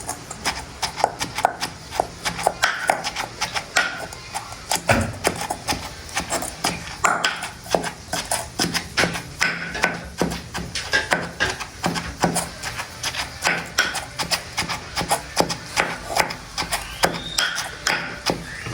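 Sambal for puri pounded by hand in a mortar, a steady run of sharp, knocking pestle strikes repeating close up for the whole stretch, with a faint voice underneath at times.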